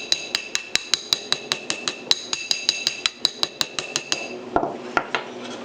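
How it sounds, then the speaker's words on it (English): A small tap hammer works the edges of a copper sheet in a steady, quick rhythm, bright ringing strikes about four per second, ending with a few scraping, duller hits. "take our little tap hammer here, just work on the edges a little"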